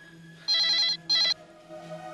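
A home telephone ringing late at night, two electronic ring bursts close by with a short gap, over a quiet background hum.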